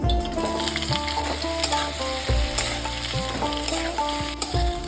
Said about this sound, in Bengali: আমি ততক্ষণে আলুগুলো ভেজে নেব ভালোভাবে। সর্ষের তেল দিলাম, তেল গরম হয়ে গেছে